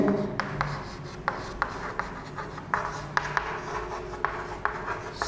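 A pen scratches across paper while a math problem is solved, producing faint, close strokes with irregular taps and short scribbles and no voice.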